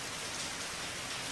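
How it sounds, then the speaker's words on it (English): Steady heavy rain from a downpour in the visual novel game Steins;Gate, a dense continuous hiss with no breaks, fairly quiet and with no voices. "In less than a minute, the rain turns into a full downpour."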